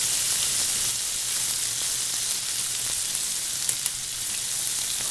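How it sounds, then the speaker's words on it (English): Pancetta, artichokes and pistachios sizzle steadily in a hot saute pan for pasta, with a constant frying hiss and a couple of soft clicks as the pan is flipped, no voices. "I just love flipping in the saute pan."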